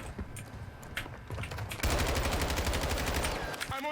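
Video game gunfire, rapid automatic bursts with a few single shots at first, then a long sustained stream of fire, loud and close, with faint voices in the background.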